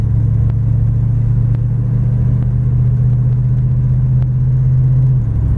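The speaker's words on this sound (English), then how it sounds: "I just want to see where it's going to shift at a normal takeoff." A Plymouth Duster with a 318 Mopar V8 pulls away from a normal takeoff and shifts gears, its engine a steady loud low drone with a few faint clicks, the tone dropping near the end.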